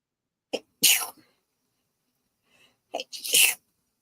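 Two close, sharp sneezes come about two seconds apart, each a short intake followed by a loud burst, with near silence between them.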